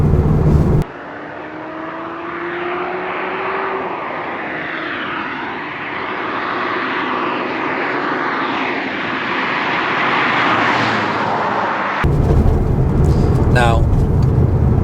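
Ferrari 360 Spider driving, a steady broad engine and wind roar that swells slightly mid-way, with a brief rising tone at the start and a harsher burst at the end.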